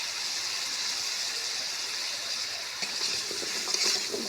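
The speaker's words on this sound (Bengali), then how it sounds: "একটু ভেজে নেব" Turmeric, chili powder and salt fry in a pan with a soft, steady sizzle, faint and close, with a few light stirring scrapes near the end and no talk.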